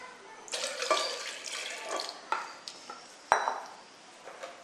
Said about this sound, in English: To your blender, you add 6 cups of water